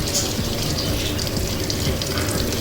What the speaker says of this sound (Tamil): நல்லா அந்த கத்திரிக்காயெல்லாம் பொரித்து அள்ளிக்குவோம்